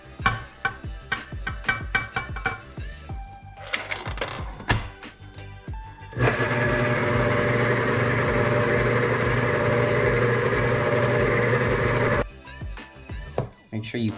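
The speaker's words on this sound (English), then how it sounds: "Make sure you clean off your mixer." An electric mixer whirs steadily through cookie dough for several seconds in the middle, with clattering and handling noises before and after.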